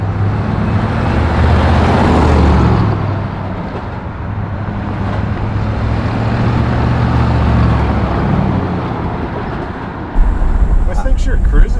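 A 1959 Chevrolet Impala cruising on the road makes a steady low engine and road rumble with tire noise, continuous and close, under people talking in the cabin.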